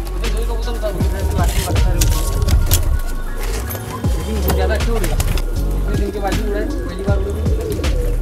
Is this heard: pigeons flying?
yes